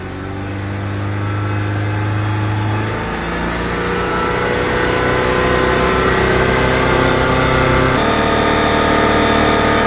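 A Saturn Sky engine with an intermittent overheating fault and a suspected defective radiator fan runs loud and close, its pitch climbing in steps as the revs rise and hold, a sustained drone with no talking.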